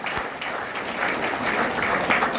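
Steady, fairly loud applause from students and faculty in a hall at a student union closing ceremony, continuous clapping throughout.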